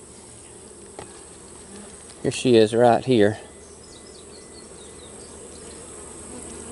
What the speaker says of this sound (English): there was a good many bees already in the top box